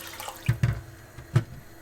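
Water is poured into a pot of defrosted dal, giving a few splashy gushes and glugs in quick bursts, close by and without talk.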